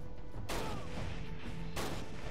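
Two heavy gunshots in the first-person shooter mobile game Overkill, about a second apart, each a sudden loud crack with a fading tail over a steady bed of game sound.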